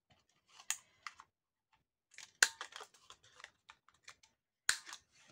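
Scissors cut paper for a vintage-style scrapbook tag, a few sharp snips with gaps between them, some close and crisp, and no one speaks.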